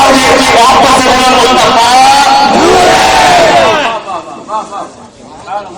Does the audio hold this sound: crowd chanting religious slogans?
yes